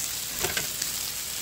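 Breakfast with cheese fries in a skillet, giving off a steady close sizzle and crackle, broken by a few brief stirring or scraping touches.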